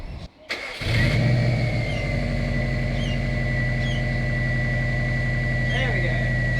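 A Subaru WRX engine catches after a spark plug fix, then runs steadily at a smooth, even idle with a light rev, loud and close, with voices talking over it.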